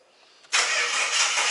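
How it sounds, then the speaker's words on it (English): Engine of a BA Falcon starts up, and a loud broadband whine and hiss from the power steering pump with air in the system follows a brief faint lead-in, then continues steadily. "that sound was almost certainly the air in the pump"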